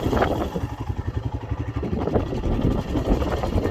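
Royal Enfield Himalayan motorcycle, a 2021 model with 886 miles, idling outdoors on a windy hilltop, a steady low engine thump under gusty wind noise, with no talk.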